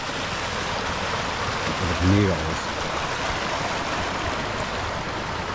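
Snowmelt stream in Finland flowing steadily as a broad, even rush of water throughout, with a voice speaking briefly over it partway through.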